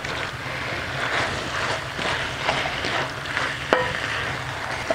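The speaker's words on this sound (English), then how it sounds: "Just mix everything until well incorporated. Mix it, mix it, mix it." Vegetables and shredded cabbage being stirred in a pot for an African vegan mixed vegetable dish, a steady scraping, shuffling churn with light sizzle running throughout, close and even, with one sharp knock near the end.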